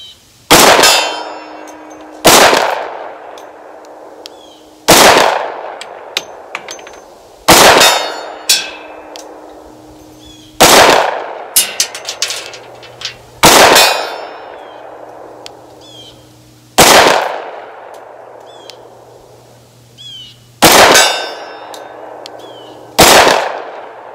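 Pistol shots from a Springfield XDM Elite 10mm fired at steel targets 50 yards away ring out as sharp, loud reports, each followed by a metallic clang, about a dozen evenly spaced shots across the stretch, mostly alone with no talk.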